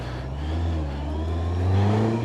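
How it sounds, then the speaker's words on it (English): Honda CB650R E-Clutch motorcycle pulling away, its engine drone rising steadily in pitch and loudness as it accelerates up close, with no one talking. "Right, we'll stick it in gear. No clutch needed. And off we go."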